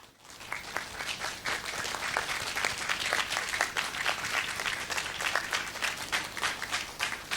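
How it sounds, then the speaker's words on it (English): Sustained applause from a conference audience after a keynote talk, a dense steady clapping from a crowd that holds throughout. "Please give him a round of applause."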